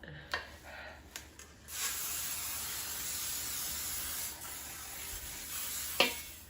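A long hiss from an aerosol cooking spray onto a pan, steady for several seconds, framed by a few clicks and clatters of handling, with a sharp tap near the end.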